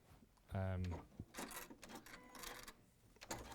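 A domestic sewing machine runs in a short loud burst and then auto-cuts its thread with a clipped mechanical clack, followed by quieter clicks and handling noises, with people talking nearby.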